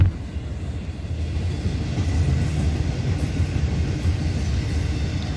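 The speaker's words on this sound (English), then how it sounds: "Another train race, look! Another train's coming!" Freight train passing during a train race between Norfolk Southern and CSX coal trains, a continuous loud rumble of rolling railcars with faint clickety-clack, close by and steady, with no talk.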